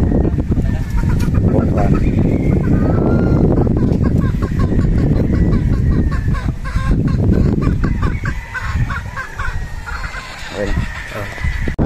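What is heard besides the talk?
Golden Boy Sweater gamefowl pullet clucking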